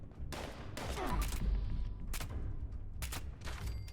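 Handmade rifle gunshots in the Fallout 76 video game, several sharp reports fired at uneven intervals, fairly loud over a low rumbling game background.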